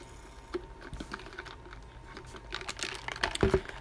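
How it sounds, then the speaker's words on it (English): Rapid keystrokes on a computer keyboard, a fast run of light clicks with a few louder taps, close by and fairly quiet, without talk. "I type very fast."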